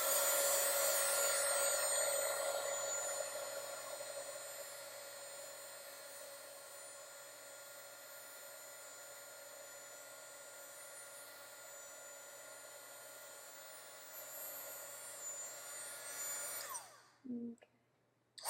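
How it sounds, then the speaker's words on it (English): Heat gun blowing for heat embossing on a Christmas card, a loud, steady airy whir up close that softens partway, then cuts off near the end, followed by a brief clunk. "Now I'm going to do this heat embossing over here"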